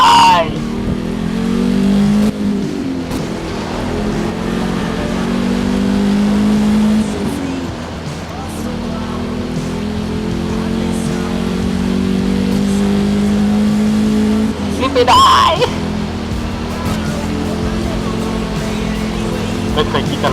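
Race cars in Need for Speed Rivals rev and roar with steady, droning engine tones that rise and fall, accompanied by a couple of sharper whooshes, while someone talks over the action throughout.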